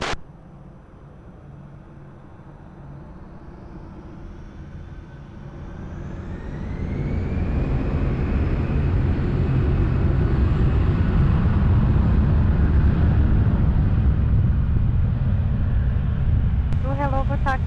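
An airliner takes off from runway 20 at Lisbon Airport, its jet engines swelling from a low hum to a loud, sustained roar partway through and holding steady to the end.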